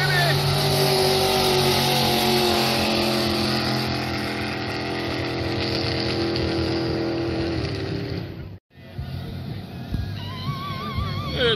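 A turbocharged jet boat races on a river, its engine roaring loud and sustained with shifting pitch, dropping out for a split second near the end before the roar returns.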